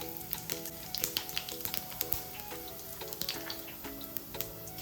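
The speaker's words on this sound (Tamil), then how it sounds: "எண்ணெய் வந்து சூடாயிடுச்சு சோம்பு சேர்த்துக்கிறேன்" Steady crackling sizzle of fennel seeds and spices frying in hot oil, close and continuous, with a faint repeating musical tone underneath.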